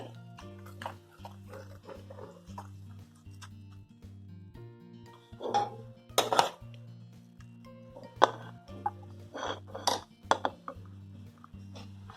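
Cooked bhagar sheera being scooped from a pan into a bowl, soft scraping and a few sharp clinks of spoon against metal, with a steady low background hum and no speech.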